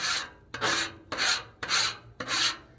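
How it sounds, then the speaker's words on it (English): A metal scraper works across a hot Blackstone griddle surface in five firm, evenly spaced strokes, each a loud rasping scrape with brief pauses between and no talking. "I just scrape everything to the back while it's hot."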